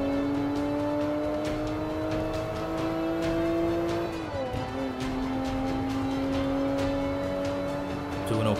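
Race car engine in Forza 5, a loud steady high-pitched drone that holds through a corner, dips briefly as the revs drop, then climbs and sustains again, close and continuous.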